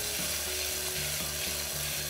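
Ginger garlic paste frying in a hot pan, a soft, steady sizzle with light rhythmic clicking from stirring, fairly quiet and with no talking.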